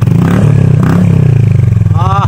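A Honda ADV150 scooter fitted with an Akrapovic full exhaust system and no silencer revs loudly and close by, its low engine drone swelling through a throttle blip before easing off near the end.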